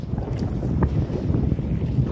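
Strong wind buffets the microphone with a low, gusty rumble during a storm on the Brahmaputra River, the boat's hum running underneath.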